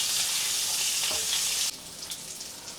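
Grouper bones pan-frying in a wok, a loud, dense close sizzle that drops abruptly to a softer crackle partway through.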